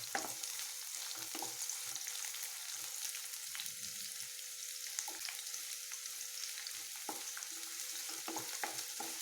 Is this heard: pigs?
no